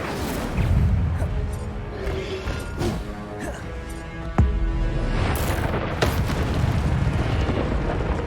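Incendio fire spell blasts in the game Hogwarts Legacy, several rumbling fiery bursts with sharp cracks amid combat noise and background music.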